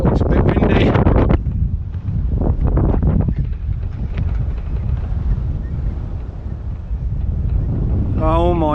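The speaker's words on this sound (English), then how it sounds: "it's a bit windy" Strong wind buffets the microphone on a boat off the Thai coast, a steady roaring rush throughout with bursts of voices talking over it at the start and end.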